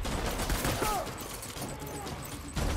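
Gunfire during a boss fight in Death Stranding: dense, continuous volleys of shots fill the whole stretch and stay loud and close throughout.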